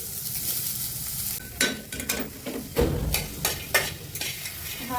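Masala of dry coconut, tomato, onion, two chillies and whole spices frying in a pan, a steady close sizzle broken by several clattering stirs and scrapes of a spoon against the pan.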